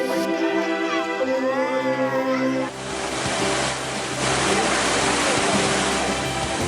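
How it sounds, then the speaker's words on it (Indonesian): Grojogan Sewu waterfall in Karanganyar, Central Java, with its strong, heavy flow, roars as a dense, continuous wash of falling water after a brief tonal, music-like opening. "Air terjun Grojogan Sewu terkenal dengan aliran yang deras dan memiliki ketinggian yang cukup tinggi"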